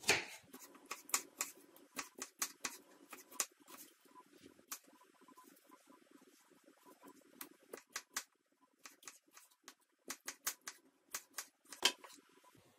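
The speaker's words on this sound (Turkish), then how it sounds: "Domatesin şöyle şu ortadaki sert kısmını alıyorum ve küp küp doğruyorum." A knife taps rapidly against a cutting board while peeled tomatoes are diced into cubes, giving quiet, close, irregular clicks in quick bursts with short pauses.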